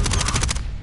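Video game gunfire, a rapid burst of about six or seven loud automatic shots in quick succession that cuts off sharply and fades out, with no voice over it.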